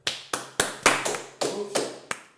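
A few people in a small podcast studio clap in about eight sharp, close bursts, some hits doubled, with a steady low hum underneath.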